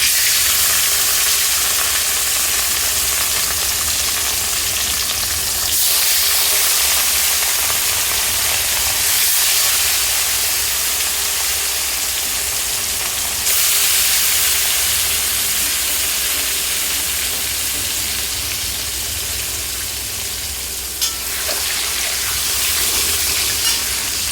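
Pieces of rohu fish fry in hot oil in a wok, giving a loud, continuous bright sizzle and hiss with slight surges as more pieces go in.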